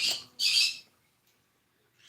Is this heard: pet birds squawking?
yes